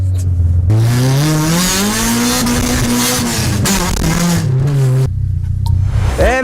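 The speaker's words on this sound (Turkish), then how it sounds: "Acayip patlatıyor araba." A car's engine revs hard and loud, close by, with the exhaust popping and backfiring in sharp cracks over the rising and falling engine note.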